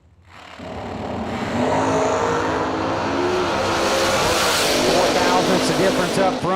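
Drag racing cars launch side by side in a heads-up race at a drag strip, engines roaring from near silence into a loud, sustained, rising howl with a brief squeal of tires. Track announcer talk runs underneath.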